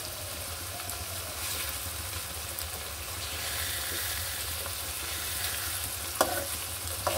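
An egg fries in a pan with snake gourd bhaji poured in around it, giving a steady close sizzle with light stirring scrapes and a faint low hum underneath, and no voices.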